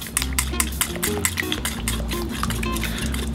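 A seasoned dipping sauce with coarse-ground black pepper is whisked in a bowl for a lobster and stone crab meal, giving steady, rapid scraping and liquid swishing strokes that carry on throughout at close range.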